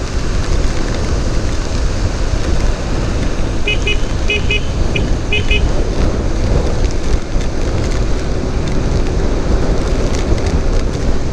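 Rain and wind roar continuously around a motorcycle rider on the move, a loud dense wash of noise with a few faint chirping beeps in the middle.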